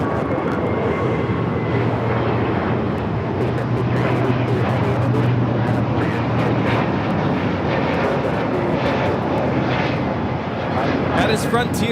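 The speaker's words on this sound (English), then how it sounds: "That is Frontier 1756 taking off to Houston Intercontinental on the A321neo Ozzy the Orca" Frontier Airbus A321neo jet taking off, a steady broad engine roar from a distance at a busy airport, with a faint voice talking over it.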